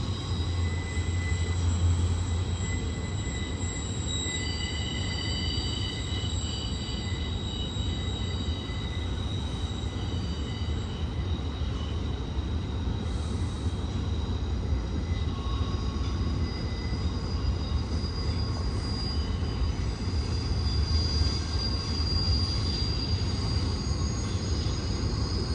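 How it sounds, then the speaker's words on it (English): An intermodal freight train of trailers rumbles steadily past on curving track, continuous low rolling wheel noise with faint high squeals and tones from wheels on the rail, heard alone at moderate distance. "Not your typical Z train, but it's a Z train."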